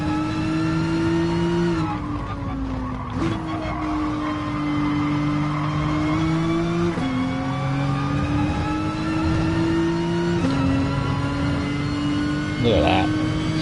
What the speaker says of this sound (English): what you actually get to listen to is the sweet squeal of tyre